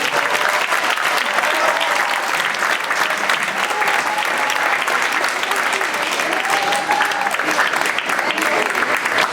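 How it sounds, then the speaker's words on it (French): Sustained audience applause fills the hall at the close of a mathematics conference talk, a dense, steady clatter of many hands at even loudness throughout. "je pense qu'on peut applaudir"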